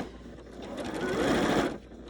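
A sewing machine runs close up in one short, rapid, steady burst while top stitching a form-fitting fabric face mask, then slows to a stop.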